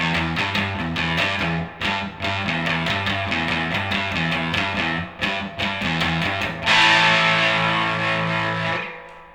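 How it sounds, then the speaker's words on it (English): A bright electric guitar with a surf-style tone rings out in quick, steady strummed chords, drenched in splashy reverb, then ends on a sustained, shimmering chord. "it's a very bright tone with lots of reverb, kind of that almost surfy style tone"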